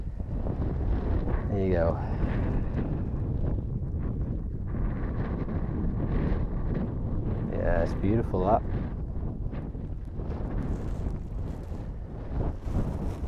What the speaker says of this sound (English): it's a little bit too gusty, a little bit too windy